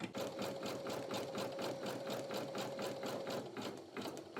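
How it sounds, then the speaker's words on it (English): An embroidery machine stitches a design in a 5x12 inch hoop, its needle hammering in a fast, even rhythm throughout, close and continuous. "that's what I was afraid of, was that it's stitching over"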